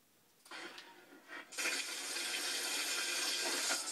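Water gushes from a household tap contaminated with natural gas, starting with a few sputtering bursts before settling into a loud, steady, hissing rush that runs on to the end.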